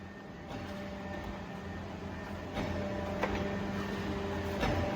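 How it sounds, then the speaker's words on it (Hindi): A Stanko 7M430 heavy-duty vertical slotting machine table moves in motorized rapid longitudinal travel, giving a steady low mechanical hum and drone that steps up slightly midway, with faint clicks. "अभी हम लॉन्गिट्यूडनल ट्रैवल चलाएंगे मोटराइज रैपिड में"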